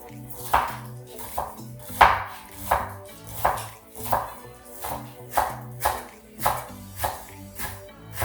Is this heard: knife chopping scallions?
yes